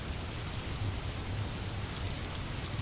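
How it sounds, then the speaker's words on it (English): Steady rain falls outside a window in a continuous soft hiss with a low rumble beneath, even and unbroken throughout, with no voices. "she listened to the rain washing the world clean outside her window"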